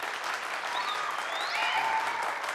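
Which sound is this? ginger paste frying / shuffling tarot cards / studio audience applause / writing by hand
studio audience applause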